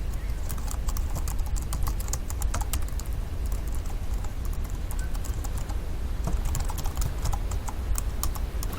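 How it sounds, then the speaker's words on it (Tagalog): Rapid typing on a computer keyboard, a continuous patter of close key clicks with no pauses, over a low background hum. "Gumagana ba yung keyboard mo?"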